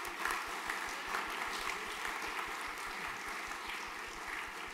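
Faint, distant applause at a junior school graduation ceremony, a soft continuous patter of many hands heard from far off, steady throughout and without talk.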